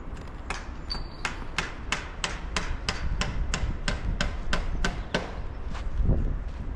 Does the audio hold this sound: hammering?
yes